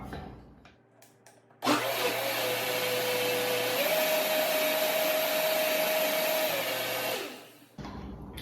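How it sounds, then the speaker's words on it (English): Blender running on peaches and raspberry puree for sorbet, starting abruptly with a loud steady whirring motor hum that shifts pitch slightly midway, then winds down after about six seconds. "we're going to take our raspberry puree and put that in the blender as well"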